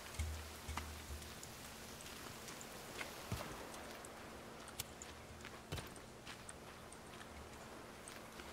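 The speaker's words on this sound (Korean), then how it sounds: "비 엄청 많이 와, 갑자기." Steady rain pours down in the survival video game The Forest, a dense, even hiss with scattered drop ticks and a few soft thuds layered over it throughout, with no talk heard.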